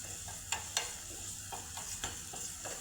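Garlic with chilli frying in a kadai for cashew curry gravy, a soft continuous sizzle with a few sharp clinks and scrapes of a spoon against the pan.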